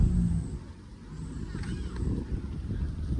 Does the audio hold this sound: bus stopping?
yes